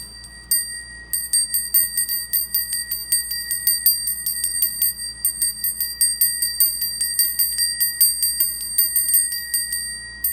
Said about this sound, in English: And I keep hearing the bells outside.